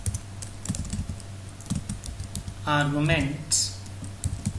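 Rapid, fairly close computer keyboard keystrokes type a Java project name, irregular clicks running throughout, with brief speech in the middle.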